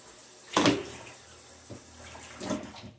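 Water runs from a kitchen tap while a pot lid is washed, giving a faint, brief splash and trickle with a couple of soft surges. No one speaks.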